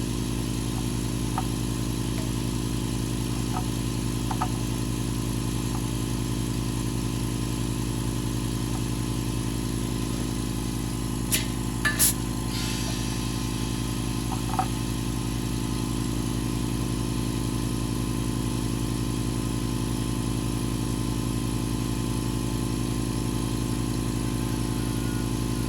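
A quiet 16-gallon air compressor running as it fills its tank, a constant low humming drone that holds steady throughout, with a few faint clicks along the way.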